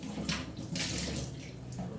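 Running tap water pours steadily over a jar being washed, a continuous close splashing stream with brief louder surges as the jar moves under the flow, no voices.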